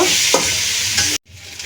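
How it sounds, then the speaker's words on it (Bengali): Pre-fried cauliflower pieces sizzling in a pan as they are stirred, continuous close frying hiss with a couple of spatula scrapes, cutting off abruptly before a quieter sizzle returns. "ভেজে রাখা ফুলকপিগুলো দিয়ে দিচ্ছি। ভালো করে মিশিয়ে ভেজে নেব।"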